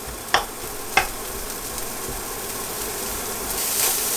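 Smoked bacon fries in a pan with onions, giving a steady, close sizzle. Two sharp utensil clacks come early, and the frying swells slightly toward the end.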